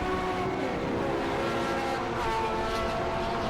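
Pre-1993 and pre-2003 touring race cars roaring past on a circuit during a championship race, loud steady engine drone with rising and falling tones as cars pass close by.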